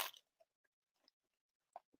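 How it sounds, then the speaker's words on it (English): A bite taken into a lemon avocado hummus snack topped with microgreens, followed by a few soft, sparse chewing crunches, close and quiet, in an otherwise silent room with no talking. "So delicious, I have to take a bite right in front of you so that you believe me."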